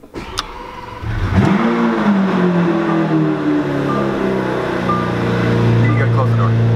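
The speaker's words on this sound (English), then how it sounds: "if you guys have ever been curious on how to start an Aventador, you just have the key inside the car" Lamborghini Aventador V12 starting up with a sharp cranking burst, then a loud rising rev that settles into a deep, steady idle close by, with a voice speaking over it.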